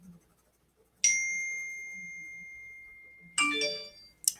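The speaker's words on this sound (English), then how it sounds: "My phone's blowing up." A phone sounds two bright notification dings a couple of seconds apart, with a third short chime at the end, against a quiet room with faint scratching.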